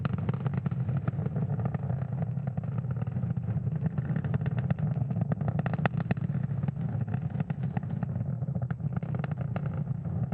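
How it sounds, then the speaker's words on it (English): Falcon 9 first-stage Merlin 1D engines roaring during ascent on a Starlink mission near max Q, a steady, muffled low rumble with faint crackle that holds at even loudness throughout. "the M1D engines on the first stage are about to throttle down in preparation for max Q"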